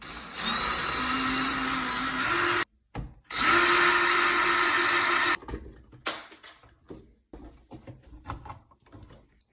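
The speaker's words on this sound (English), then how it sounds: "It's just quicker to get a drill." A power drill whirs loudly in two steady bursts while backing screws out of a bathroom exhaust fan switch, followed by scattered clicks and clatter of parts being handled.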